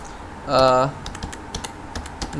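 Typing on a computer keyboard while working with free AI tools, a spaced series of light key taps across the clip, with a brief voice at the start.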